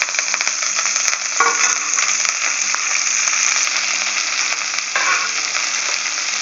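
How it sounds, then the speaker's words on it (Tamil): Curry leaves and lentils roasting in a pan on a low flame, with a steady close, loud frying sizzle and crackle throughout, brief bursts of extra spitting, and no talking. "அடுப்பை சிம்மில் வச்சு அப்படியே நல்லா வறுத்துக்கிட்டே"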